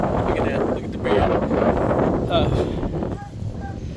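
Strong wind sweeps across open prairie, buffeting the microphone with a steady, loud roar and gusts throughout, while a person speaks intermittently underneath.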